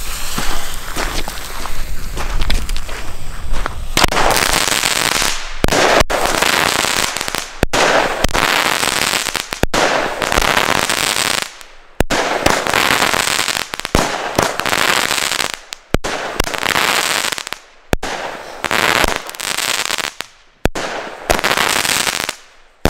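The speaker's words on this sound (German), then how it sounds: "nächste Batterie im Test ist die Magma von Argento" An Argento Magma firework battery fires outdoors in a rapid series of loud bursts and crackling shots, with short gaps between volleys across the whole stretch.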